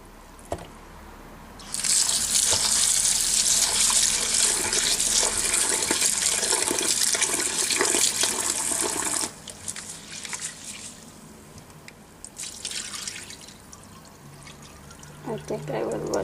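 Rice being washed under a running kitchen tap: a loud, steady gush of water pouring for several seconds, then stopping and giving way to quieter swishing and trickling as the grains are rinsed, with a voice talking over it.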